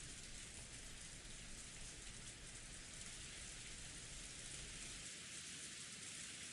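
Continuous rainfall, a thick uniform hiss of drops on a surface that stays steady from start to finish, with no voices or other sounds.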